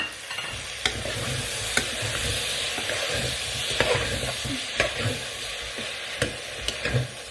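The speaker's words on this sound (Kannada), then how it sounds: "ಇದು ಸ್ವಲ್ಪ ಎಣ್ಣೆ ಬಿಡೋವರೆಗೂ ಫ್ರೈ ಮಾಡಿ" A spice mix blended with curd sizzles in oil for a soya vegetable palav. A constant frying hiss plays up close, with occasional sharp scrapes and knocks of a spoon stirring the pan.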